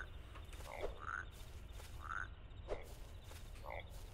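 Croaking frogs in a small indie video game sound in short, evenly spaced chirps over a soft game background, quiet and repeated several times.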